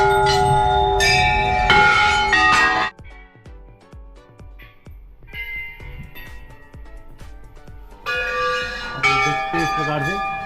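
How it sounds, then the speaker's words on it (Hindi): Bells ring at the Chitai Golu Devta temple: loud clanging bursts at the start and end, with quieter separate strikes between them, all close by amid a crowd of devotees. "भक्तों की भीड़ और लगातार गूंजती घंटों की आवाज़"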